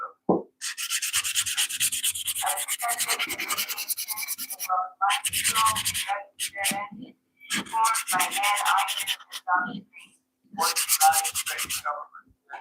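Maple wood being sanded in a woodshop, a close, harsh scratchy rasp in long continuous strokes broken by short pauses, loud and alone without any talking.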